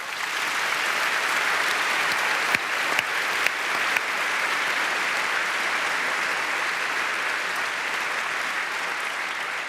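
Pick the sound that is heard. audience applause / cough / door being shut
audience applause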